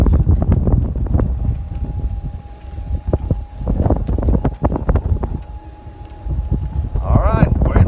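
Wind gusts buffet the microphone on an open golf course fairway on a windy day, producing loud low rumbling bursts, while a person talks over it.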